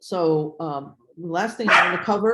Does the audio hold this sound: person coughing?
no